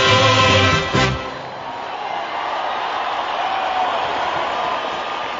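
Big AFL crowd at a Collingwood v Carlton match, a broad, steady roar of shouting and cheering from a packed stadium after singing fades out early on.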